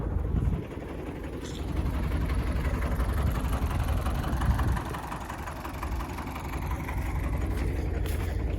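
An MTZ-80 tractor engine revs while plowing a field, a loud continuous low diesel rumble that swells after a brief dip near the start and holds a steady throaty drone, close by, with no talk.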